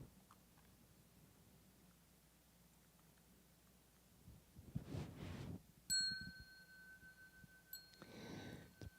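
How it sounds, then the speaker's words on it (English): A bell is struck twice, each ring leaving a clear sustained tone that hangs in the air, set among soft rustling and low background noise during a Buddhist sutra lecture. "Now we need a bell."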